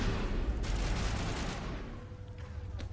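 An enemy in Mass Effect fires a rapid volley of missiles, a dense burst of booming impacts that fades into a quieter rumble with a few scattered hits after.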